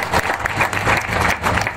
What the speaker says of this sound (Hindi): प्लीज जोर से ताली बजाओ आप लोग